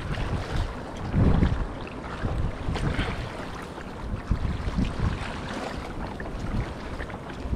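A fishing boat runs across open water while nets are set offshore on a foggy morning at sea, its motor a steady churn under wind buffeting the microphone and the wash of water, with no voices.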